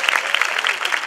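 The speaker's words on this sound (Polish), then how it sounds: "to są brawa dla pani." Dense, close applause from a cabaret audience, many hands clapping rapidly and loudly without pause.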